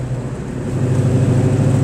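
Restomod 1967 Mustang fastback Shelby GT500 with a 2007 GT500 drivetrain, its engine holding a steady, loud, close rumble that builds slightly as it runs, with no talking.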